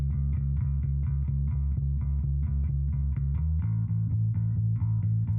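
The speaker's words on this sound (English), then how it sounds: "Just a bit of a darker bass sound." A deep, dark DI electric bass riff through an Overloud amp simulator, steady repeated notes, full and rounded, playing alone with a slight amp-like grit.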